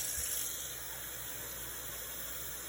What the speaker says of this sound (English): And I am going to add a little bit of water.